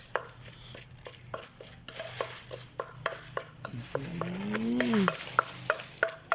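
Mackerel fries in oil under a low crackle, punctuated by regular sharp taps and scrapes of a utensil, with a brief squeaky sliding tone partway through.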